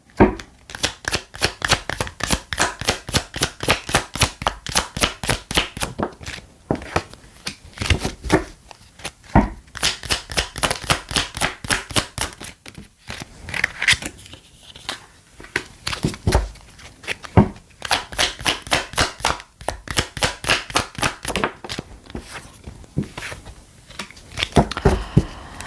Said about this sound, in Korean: 추가 카드 잠시만 뽑아볼게요.